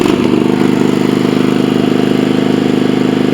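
Kohler CV22 engine revving up, a loud close-miked mechanical drone with a fast steady firing pulse throughout, no voices.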